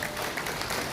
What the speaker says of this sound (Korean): 큰 박수 보내주시면 고맙겠습니다.